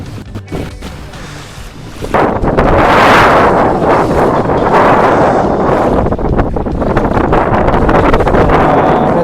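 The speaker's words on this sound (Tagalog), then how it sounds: "medyo windy ngayon medyo malakas ang hangin" Strong wind roars and buffets the microphone at an ultralight rod fishing spot, rising sharply after a quieter start and staying loud and gusty throughout.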